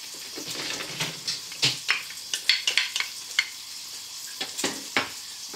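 Onions, courgette, carrots and garlic fry in a pan with a little low-calorie spray oil, giving a steady close sizzle broken by the irregular scrapes and knocks of stirring.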